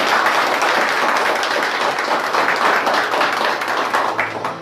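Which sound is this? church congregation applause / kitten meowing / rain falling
church congregation applause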